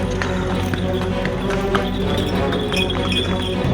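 Horse hooves clip-clop steadily while pulling a tanga cart on a street, a continuous busy rhythm with faint background voices.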